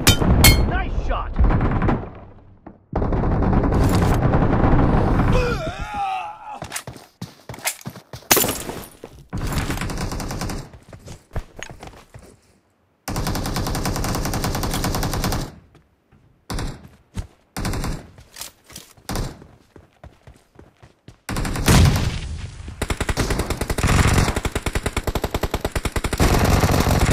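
Rapid automatic gunfire bursts from the mobile shooter game Tapa Tap Rush, loud and close, broken by short gaps, with in-game voice callouts between volleys.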